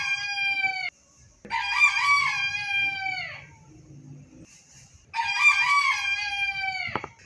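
A rooster crows loudly twice, each long, strained call rising then trailing off, with a quiet gap between them.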